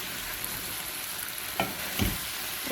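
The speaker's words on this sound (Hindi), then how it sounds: "इसको भी हम भून लेंगे" Okra fries with dried garlic and spices, giving a dense, even hiss of oil close by, with two brief scraping stirs near the end.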